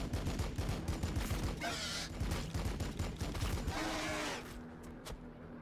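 Rapid bursts of gunfire from the Warhammer 40k: Battlesector video game, dense overlapping shots forming a sustained fusillade that fades out near the end.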